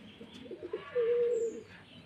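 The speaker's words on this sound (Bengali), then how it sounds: "দর্শক আমরা দেখতে পাচ্ছি আমাদের রাজশাহী গিরিবাজ কবুতর," Rajshahi Giribaz pigeons at a pigeon farm in Bangladesh give a soft, low coo that swells into one sustained, steady call, close by, with faint farm noise behind.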